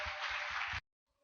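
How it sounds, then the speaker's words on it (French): A church congregation bursts into steady, dense applause during a worship service, the clapping holding loud and even for under a second before cutting off abruptly into near silence. "Applaudissons fort le Seigneur."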